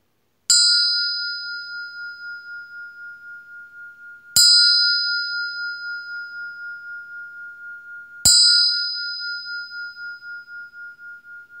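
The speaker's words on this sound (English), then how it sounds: "And with that, I'll sound this bell." Meditation bell struck three times at steady intervals, each strike giving a clear bright ring that rings on and slowly fades into silence before the next.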